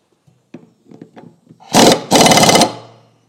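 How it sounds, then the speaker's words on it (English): Parts being bolted down with a power tool: a few light metallic knocks and handling taps, then two loud close bursts of an impact driver or drill running about half a second each, with no speech. "And then we just bolt them down."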